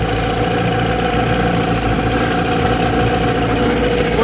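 A 1997 Tracker 40ELPTO outboard built by Mercury idles with a loud, steady, close-up engine drone and rumble, unbroken and without speech.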